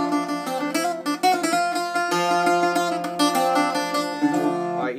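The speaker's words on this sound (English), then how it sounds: "plucking down here for heavy is really good for scales and that kind of thing." Bouzouki notes are plucked quickly near the bridge in a running scale, bright and twangy, ending on a sustained ringing note.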